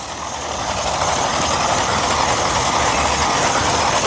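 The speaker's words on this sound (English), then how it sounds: "The fun you can have with the brushless mini crawler." A brushless FCX24 K5 Blazer mini RC crawler driving, a steady loud whirring and rattling drone held without a break throughout.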